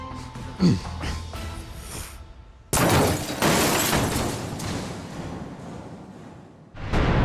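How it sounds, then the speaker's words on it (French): A sudden loud explosion erupts after a few quieter knocks and bumps, followed by a long rumbling roar that fades, then another burst at the end, in a horror tabletop role-playing game. "Vous entendez une explosion, vous voyez la fumée remonter."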